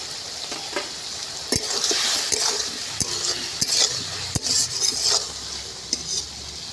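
Vegetables and tomatoes sizzle in a pan for a Bengali vegetable bora recipe, with a spatula stirring and clinking against the metal in irregular close, sharp knocks over the steady frying hiss.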